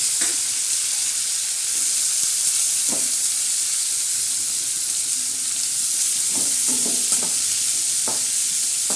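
Onion, green chilli and tomato sizzle in a pan as a tadka for village-style moong dal, a loud continuous frying hiss broken by occasional spoon scrapes and clicks.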